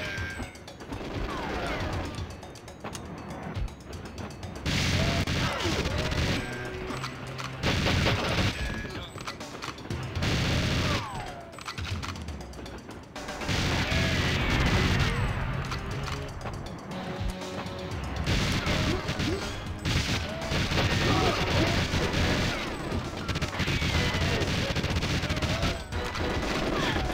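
Heavy gunfire from the GoldenEye video game on Nintendo Switch in Agent mode against computer opponents, with dense bursts of shots and crashes filling most of the stretch, broken by short gaps.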